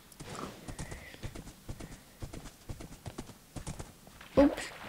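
Horse from the Minecraft PE video game, with repeated clip-clop hoof steps throughout and a short loud whinny near the end, close by.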